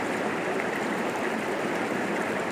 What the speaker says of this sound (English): this is an absolutely gorgeous river